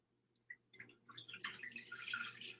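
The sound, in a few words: water poured from a mason jar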